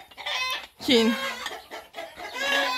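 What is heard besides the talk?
roosters crowing and clucking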